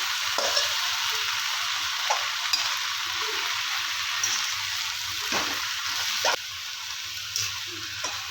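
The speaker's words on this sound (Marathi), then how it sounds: "भाजी अशी चांगली हलवून घ्यायची आहे" Amaranth greens sizzle steadily in a hot pan while a spoon stirs them, giving a few soft scraping strokes over a constant hiss. No one speaks.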